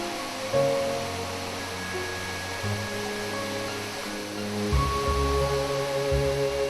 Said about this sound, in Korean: 좁은 골짜기를 흐르는 물과 작은 폭포가 한 폭의 동양화처럼 편안하고